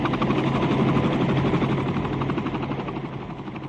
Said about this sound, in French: Elle arrive le 5 août en hélicoptère à San Giovanni Rotondo.